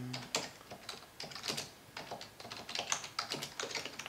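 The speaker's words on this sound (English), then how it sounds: "when you're actually on AliExpress, you want to type in exactly the product that you're looking for." Fast, uneven typing on a computer keyboard, a steady run of close, crisp key clicks entering a product search on a shopping site, heard alone with no talk.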